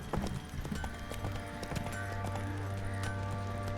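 Hooves of a horse called Roach clip-clop on the ground in The Witcher 3: Wild Hunt, a steady walking rhythm over a constant game ambience with musical tones.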